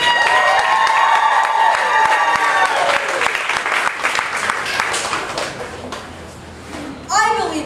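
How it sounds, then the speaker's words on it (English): A large crowd of children at a Kids Who Care Day event applauds and cheers for a keynote speaker, loud and sustained. The clapping fades, then a voice speaks over the tail. "So please make some noise for Dalton Sherman, ladies and gentlemen."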